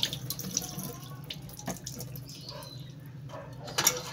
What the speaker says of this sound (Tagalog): At hugasan na rin lang natin para malinis na rin yung ating ampalaya.